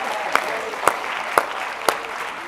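A conference audience applauds contest winners, a thin wash of clapping at moderate distance, with four sharp evenly spaced louder claps standing out near the front.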